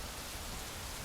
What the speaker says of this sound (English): Oh boy, it is a torrential downpour today.